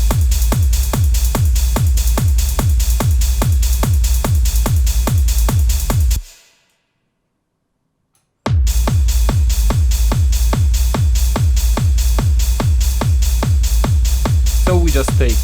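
Hardgroove techno loop with punchy percussion, reverb-washed hi-hats and a heavy low end, pounding in a steady driving rhythm, cutting out to silence for about two seconds before the full groove slams back in.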